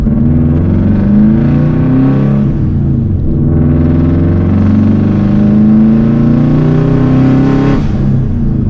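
A WRX-swapped Subaru 2.5RS with no muffler revs hard and close, its raw, loud exhaust note climbing, dipping briefly, then rising again in a long roar.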